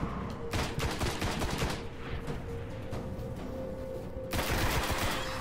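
Rapid full-auto bursts from an auto rifle in the video game Destiny, played on Xbox One, rattle loudly and continuously with dense overlapping shots and booming impacts, pausing briefly before another sustained volley near the end.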